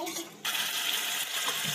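Water pouring into a pan of frying curry masala with yogurt for an egg and potato gravy, a sudden steady hiss and splash starting partway through and continuing close and moderately loud.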